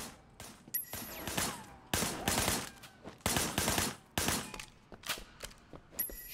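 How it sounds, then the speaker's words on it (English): Gunfire in the video game Sleeping Dogs, shots fired from a car's passenger window: repeated loud bursts of rapid automatic fire broken by short pauses, close and punchy, with no speech. "Firing shots from the passenger window."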